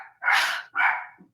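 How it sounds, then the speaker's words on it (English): A dog lets out two loud, sharp barks close by, with a short pause between them. The second bark trails into a faint whine, and there is no talk. "When dogs are your coworkers, sometimes they pop off at the mouth."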